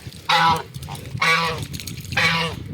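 Domestic geese honking close by, three loud, drawn-out nasal honks spaced about a second apart with brief pauses between, no talking over them.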